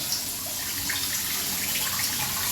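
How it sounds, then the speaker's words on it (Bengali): Water pours steadily into a pot of masoor dal set on to boil, a continuous close splashing stream with no talk. "এবার ডালটা বসিয়ে দিই ডালটা সিদ্ধ হওয়ার জন্য জলটা দিয়ে দেবো"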